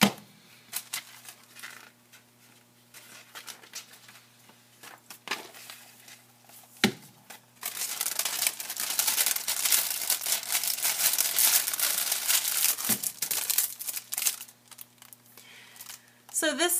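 A pack of TOYO Chiyogami origami paper being handled, giving sharp crinkling and rustling that stays sparse at first, then turns into dense, louder crumpling through the second half, with a voice present at times.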